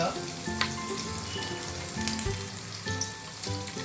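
A spoonful of cumin, curry leaves and a small spoon of asafoetida hitting hot oil for shev bhaji, a loud, steady crackling sizzle close up with sharp pops.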